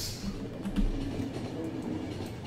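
A train runs on rails in The Final Station video game, giving a steady low rumble with faint rhythmic clicking of wheels, continuous and close throughout.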